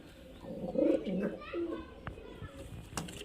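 Giribaz and Kalshira pigeons coo in low, throaty bursts at a pigeon sale, loudest near the start, with faint background voices and chatter around them.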